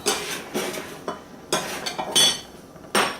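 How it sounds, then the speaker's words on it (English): Ceramic bowls being moved and separated on a kitchen counter, a handful of sharp clinks and clatters in irregular bursts, close and fairly quiet, with no talk. "So I'm going to move my coffee out the way and separate the bowls"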